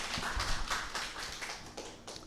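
Lecture-hall audience applauding to welcome a history professor, scattered hand claps, fairly faint and brief, with no voices.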